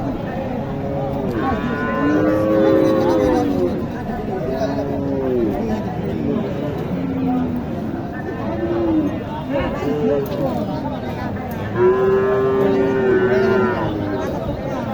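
Sahiwal and Gir cattle at the Matajihat cattle market in Naogaon moo repeatedly, several long bellows rising from different distances over a constant hubbub of crowd chatter.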